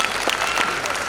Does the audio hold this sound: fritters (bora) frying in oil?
no